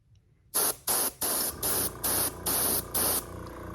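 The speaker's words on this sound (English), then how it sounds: "Now I'm gonna turn the airbrush down just a little bit because we don't want it spraying a lot" An airbrush turned down low lays light paint on a fishing lure in seven short, even hissing bursts separated by brief pauses, close and steady.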